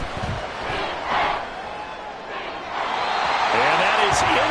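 A stadium crowd at a football game roars and applauds the defense after an incompletion, a broad wash of noise that swells toward the end while a commentator talks over it.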